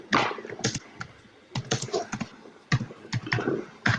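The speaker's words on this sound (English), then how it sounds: "Someone's punching a keyboard there." Someone types hard on a computer keyboard, a close run of sharp, irregular key clacks in quick bursts separated by brief pauses, with no voices.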